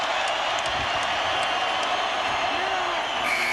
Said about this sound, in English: Standing ovation from this capacity crowd.